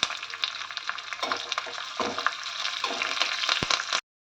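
Tempering seeds, green chilies, dried red chilies, curry leaves, turmeric and tamarind pulp fry in hot oil, making a steady close sizzle with stirring scrapes and a sharp clank near the end.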